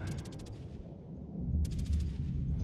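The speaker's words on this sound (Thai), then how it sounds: "เสียงปืนอากาศยานอ่ะผู้ชมได้ยินไหมมันดังแตกๆๆๆ" Anti-aircraft guns fire from warships in World of Warships, rapid crackling bursts of shots in two volleys, with a low rumbling boom between them, moderately loud against the naval battle.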